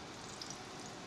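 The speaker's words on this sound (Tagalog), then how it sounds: "habang ginigisa natin yung sibuyas" Onions sautéing in a pan give a steady, even sizzle and crackle at close range, soft and continuous with no voices.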